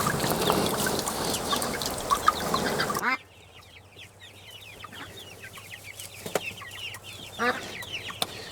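Ducks quack and chatter together around a backyard duck pool, loud and dense at first, then fewer and more scattered calls with some clucking, no talk.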